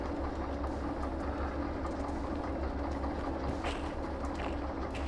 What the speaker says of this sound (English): Let's get out the locomotive to do some maintenance work.